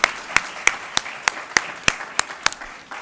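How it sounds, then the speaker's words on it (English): Sparse applause follows a healthcare panel discussion, a few distinct, evenly spaced hand claps ringing out close by over a quiet background, rather than a full crowd. "They all deserve a huge round of applause."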